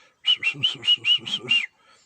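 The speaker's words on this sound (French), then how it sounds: "On entend les oiseaux qui font..." Songbirds in a Haut-Languedoc forest of beech and spruce, with ferns below, sing a quick run of seven bright whistled chirps at an even, rapid rhythm. The birds are fairly close and clear, and no one talks over them.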